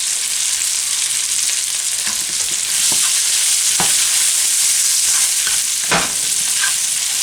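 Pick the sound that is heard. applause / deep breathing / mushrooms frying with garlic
mushrooms frying with garlic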